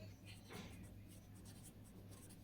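A pen writes numbers on paper in quiet, close scratching strokes, a soft continuous rustle with a few brief louder scrapes.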